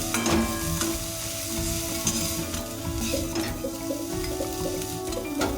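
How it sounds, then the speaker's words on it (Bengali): Shrimp sizzle steadily in a hot wok while a spatula scrapes and stirs at close range, with soft background music underneath and no voices. "চিংড়ি মাছগুলো ভাজা হয়ে গেছে।"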